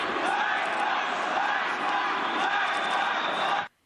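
Loud shouting and roaring from football fans packed in stadium stands, a dense, continuous wall of crowd voices that holds steady for several seconds before cutting off abruptly.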